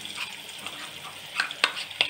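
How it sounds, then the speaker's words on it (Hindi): Masala fried with malai paste for matar masala sizzles steadily in a pan while a spoon stirs it, with a few sharper scraping clicks near the end and no talk. "दो से तीन मिनट इसको ऐसे ही मसाले को भूनने देंगे"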